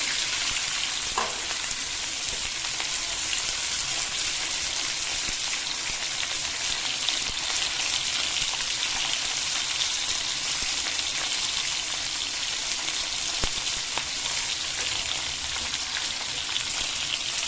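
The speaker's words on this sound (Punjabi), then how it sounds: "ਘਿਓ ਤੇ ਵਿੱਚ ਪਾ ਲਿਆ ਜੀਰਾ ਤੇ ਆਪਾਂ ਪਾ ਲਈ ਪਿਆਜ਼" Onions with cumin sizzle in ghee in a kadhai, a constant soft crackling hiss with faint occasional stirring clicks, moderately quiet and without talk.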